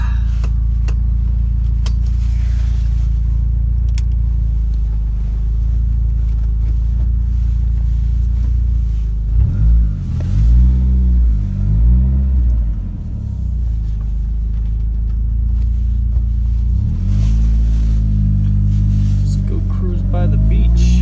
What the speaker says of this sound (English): Car's working. Car's driving fine.